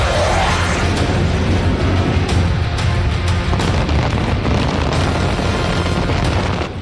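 Heavy booming detonations and dense rumbling from cluster bomb strikes in the Russia-Ukraine war. A loud, continuous, distorted wall of blasts with crackling bursts layered on top holds for about seven seconds.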